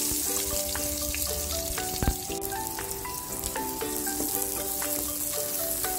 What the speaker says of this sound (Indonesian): ini saya ongseng ya bumbunya